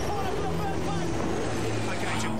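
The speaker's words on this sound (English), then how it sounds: "The engine's right in its sweet spot." A V8 Supercar engine runs in second gear through a corner at Mount Panorama during the Bathurst 1000, a loud, steady droning roar heard under someone talking.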